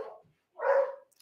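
Two short dog barks, one at the start and another a moment later, fairly close and alone with no talking.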